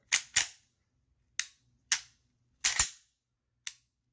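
A Sig M18 P320 with a compensator is dry fired, giving sharp, crisp trigger reset clicks in an uneven series of about nine close, loud snaps, some in quick pairs.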